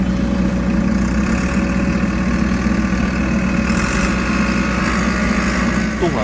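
An excavator engine running at full throttle in a rural paddy field, its blade pressed to the ground while it pulls hard: a loud, constant, close mechanical drone with no break.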